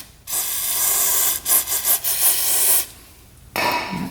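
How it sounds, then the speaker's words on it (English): Cleaner sprayed onto gunked-up motorcycle parts: a steady loud hiss for over two seconds, then a few quick pulsing bursts, a pause, and another close spray starting at the end. "So we're gonna spray those off first."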